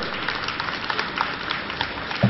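Audience applause at an astrology conference: steady hand clapping from a seated crowd, moderately loud and continuous, ending with a brief thump.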